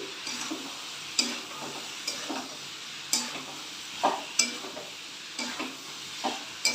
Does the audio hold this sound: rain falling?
no